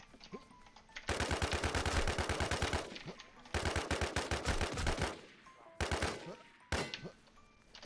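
Bursts of rapid automatic gunfire in a shooter video game, loud and dense, in several long strings separated by brief pauses.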